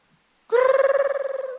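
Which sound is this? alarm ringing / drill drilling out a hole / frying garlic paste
alarm ringing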